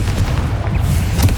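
A Confringo fire-blast spell bursts in Hogwarts Legacy, a dense low booming blast that rumbles steadily and loudly throughout, like an explosion in the thick of combat.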